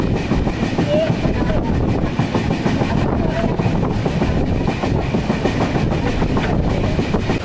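Passenger train heading toward Howrah Junction in light rain, heard from a window as a steady loud rumble with wheel clatter throughout, constant and close, with faint voices in the carriage.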